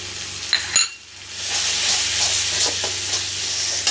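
Ground cumin, coriander, Kashmiri chili powder and turmeric fry in hot oil in a pan: a few clinks, a brief lull, then a loud, steady hissing sizzle that builds and holds, close by and without talk.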